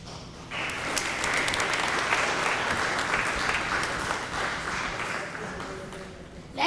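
Sustained audience applause fills a school leadership day event hall, steady dense clapping from many people that holds strong throughout before easing slightly at the end.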